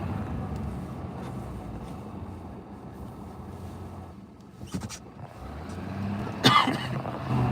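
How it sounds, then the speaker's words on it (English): A car approaching along a road, a low engine rumble that swells gradually with a brief louder swish near the end, heard from outdoors. "hang on, I got a car approaching."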